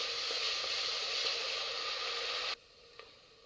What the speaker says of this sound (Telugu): ఒక 2 స్పూన్ల అల్లం వెల్లుల్లి పేస్టు పచ్చివాసన పోయే వరకు వేయించుకోవాలి.